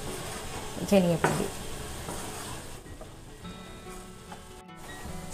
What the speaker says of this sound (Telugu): మొత్తం ఆలుగడ్డలకు పట్టేటట్టుగా కలుపుకోవాలి